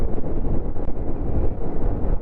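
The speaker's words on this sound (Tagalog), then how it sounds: "ang lakas ng hangin" Heavy wind buffeting a microphone stuffed inside a motorcycle helmet while riding a Kawasaki Ninja 1000 in the rain, a loud, continuous low roar and rumble that fills the sound with no voices.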